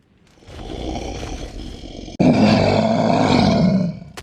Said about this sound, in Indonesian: Lalu beberapa harimau mendatangi Yuji yang sedang berada di hutan.